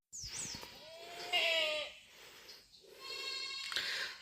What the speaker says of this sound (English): there are kids hollering